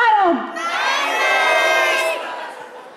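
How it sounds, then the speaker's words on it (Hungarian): A crowd at a cosplay show in Pécs shouts character names all at once, a loud burst of overlapping voices and whoops that swells and then fades. "Be lehet nyugodtan kiabálni a karakter nevét."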